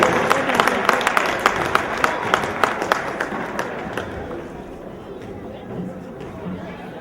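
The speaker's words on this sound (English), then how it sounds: "That's our big round of applause for the Evan Green Wave basketball team." Spectators at a high school boys basketball game clap for the Green Wave team in a short burst of sharp hand claps that fade into general crowd chatter in a gym.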